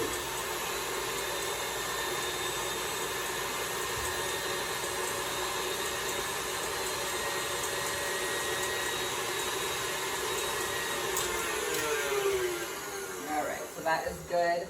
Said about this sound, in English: now I'm going to take the whisk, and like I said, we're going to beat this on high